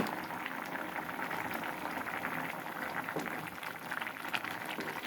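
Lentils and potato boil in a covered pot, giving a steady, dense bubbling hiss that goes on without a break at moderate volume.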